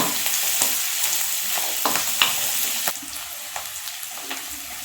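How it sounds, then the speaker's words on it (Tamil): Onions sizzling steadily as they sauté in a pan for rava upma, with scraping stirs and clinks from a spoon, heard close up with no voices. "இப்போ பாருங்கள் வெங்காயம் வதங்கிக்கிட்டு இருக்கு"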